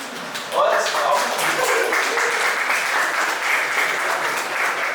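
An audience applauding at an entrepreneurship talk: a dense, steady wash of many hands clapping that rises sharply after a brief quieter start and holds loud and even for the rest.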